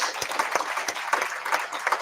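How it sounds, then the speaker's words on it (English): Audience at an evening community huddle applauds a state senator, a brief burst of mixed clapping with a few loud individual claps standing out. "Please give her a gigantic round of applause."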